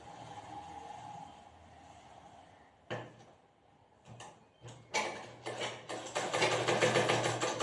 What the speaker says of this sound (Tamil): கால் இன்ச் அளவுக்கு ஸ்ட்ராங்காக தைக்கிறோம்